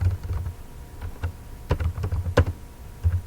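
Typing on a computer keyboard while building a spreadsheet macro: a quiet, irregular run of close key clicks and taps, with a few sharper presses standing out.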